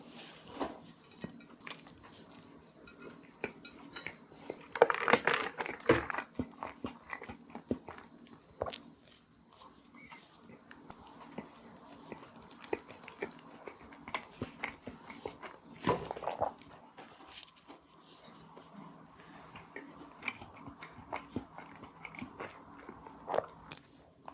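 Chewing on an edible imitation 50,000-won banknote, with soft, irregular bites and crunches scattered through a quiet close-up setting, a few louder crunchy bursts standing out among faint mouth sounds.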